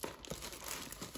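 Packaging crinkles and rustles while a parcel holding a 7-inch RGB bi-LED daymaker lamp is unboxed, quiet close-up crackles in short irregular bursts.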